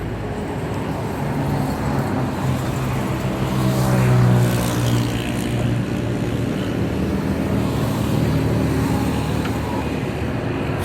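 Idling engine of a used Suzuki Mehran running on CNG and petrol, a steady low hum with faint rhythmic throb and slight swell partway through, heard alone without voices.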